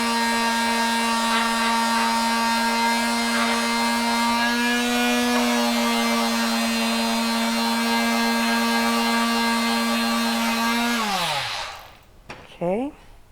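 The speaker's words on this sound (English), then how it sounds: "Just going to sand this down so it's a little clearer." Steady loud power-tool whine with a constant pitch runs while a handmade skin drum frame is sanded down, then winds down and stops near the end, followed by a brief faint rising sound.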